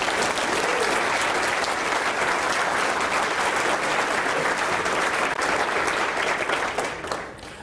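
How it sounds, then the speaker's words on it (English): Sustained applause from an audience at a corporate presentation to UPS employees, a dense, steady wash of many hands clapping that holds for several seconds before tapering off at the end. "give ourselves a round of applause"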